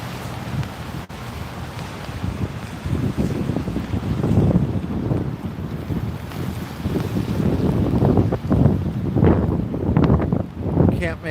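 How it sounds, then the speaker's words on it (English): Strong outdoor wind of about 16 miles an hour buffets a lavalier microphone at a street protest, producing a loud, continuous low rumble and roar that swells and dips throughout. "It's like 16-mile-an-hour winds"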